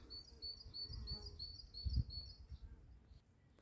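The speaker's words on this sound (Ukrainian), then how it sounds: "А пташечки, як на задньому плані, співають" Small birds sing in a flowering garden, a faint repeated series of high chirps over the first two and a half seconds, heard at a distance against soft low background rumble.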